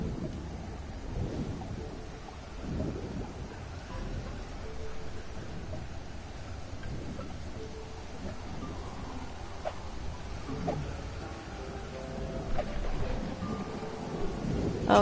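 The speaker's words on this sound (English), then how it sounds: "Looks like it's getting a little stormy." A thunderstorm over an island in Stranded Deep. Steady rain hisses throughout while low thunder rumbles roll in and out, with a louder crack near the end.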